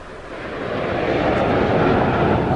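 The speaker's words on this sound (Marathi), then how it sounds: "हर्क्युलिस सारखं विमान ट्रान्सपोर्ट विमान" A Hercules military transport aircraft flying over the Rajpath parade in New Delhi, a loud, steady, broadband engine roar that swells slightly and holds, with no voices.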